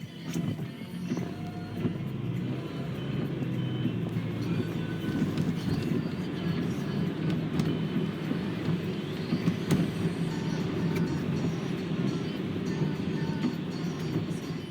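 A car driving on the way to a supermarket in Christchurch, New Zealand, heard from inside as a steady low engine and road rumble that holds evenly throughout, with no talk.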